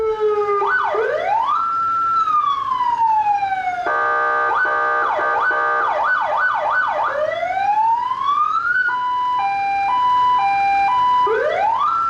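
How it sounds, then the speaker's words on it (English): Siren on a Cuda armored Land Cruiser cycling through several modes: a rising wail, fast yelp sweeps, a long rising tone and a two-tone alternating pattern, loud and close for about twelve seconds with no talking. "take a listen to me for just a few seconds messing with the siren in the Cuda"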